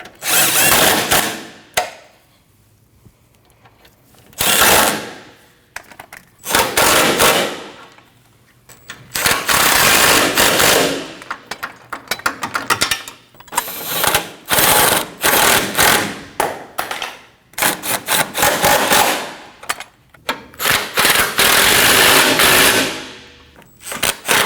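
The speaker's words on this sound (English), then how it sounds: "Now you want to tighten your bolts down" A power tool drives bolts on a 2013-2019 Ford Escape radiator and condenser fan assembly in repeated loud bursts of whirring and rattling, separated by short quiet gaps, close up and with no talk.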